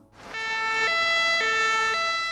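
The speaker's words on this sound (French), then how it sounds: "Dans ce cas-là, elle utilise la sirène 2 tons" A loud two-tone siren on a French medical transport ambulance alternates between high and low pitches in a steady, evenly spaced cycle, nearby and without any talking.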